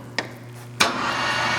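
Spindle of a Clausing 600 Series 11 x 30 inch lathe running, a steady low motor hum with a sharp clunk as the speed changes, followed by a broader whirring drone, close and fairly loud.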